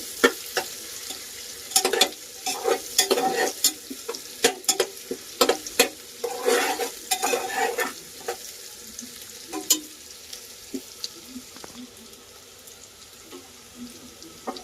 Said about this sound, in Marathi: टोमॅटो टाकून घेते मी आता.